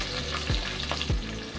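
Green chilies and onions sizzle steadily in a hot pan for chicken gravy, with a couple of quick stirring scrapes cutting through the close, continuous frying hiss.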